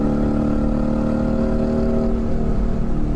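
Inside a Mansory Mercedes-AMG G63 Philipp Plein Star Trooper, the engine roars steadily and loudly under acceleration, its deep tone dipping slightly toward the end as the gearbox shifts.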